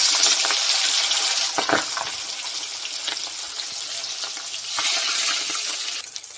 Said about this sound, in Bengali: তেল গরম হয়ে গেছে, এবার দিয়ে দিচ্ছি মাছ।